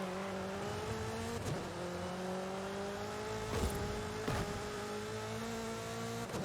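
A car racing through a Full Throttle trial in Forza Horizon 5, its engine droning and rising in pitch through the gears, with several abrupt gear-change dips and some tire noise and no talking.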